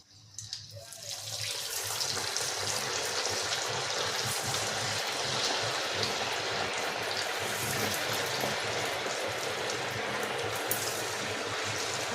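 Sabudana vadas sizzle in hot oil, a loud, steady crackling hiss that swells in within the first second and then continues unbroken.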